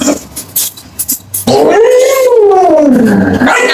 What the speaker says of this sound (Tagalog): Ang hirap kapag marami kang aso.